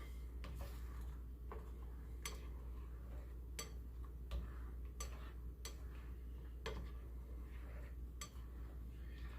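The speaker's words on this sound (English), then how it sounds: "Go ahead and give these a little stir." A utensil stirs scrambled eggs in a pan with light, irregular clinks and scrapes spread across the stretch, quiet and close over a low steady hum, with no talking.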